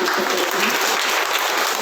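An audience claps steadily throughout at a foundation-laying ceremony for a new primary health centre building, a dense, even burst of applause heard close.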